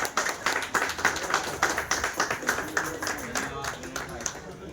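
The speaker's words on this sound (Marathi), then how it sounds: "आपण सगळ्यांनी टाळ्या वाजून अभिनंदन" A group of people clapping together in congratulation at a housing society gathering, a steady run of rhythmic handclaps close by with a faint voice underneath.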